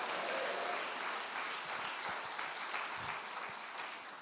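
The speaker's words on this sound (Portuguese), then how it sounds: "As palmas para Ele." Sustained applause from a church congregation fills the room, thick and continuous many-handed clapping that thins slightly toward the end.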